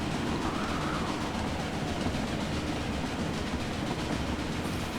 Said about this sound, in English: we're bringing more trains in now